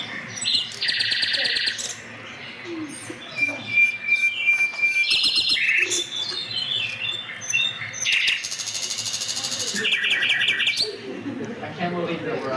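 Bird song with many call variations: bright chirps, whistles and trilled phrases change from one burst to the next, loud and close, repeating over about twelve seconds.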